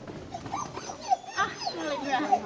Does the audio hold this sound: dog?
yes